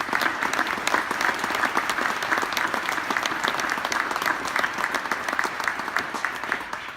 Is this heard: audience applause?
yes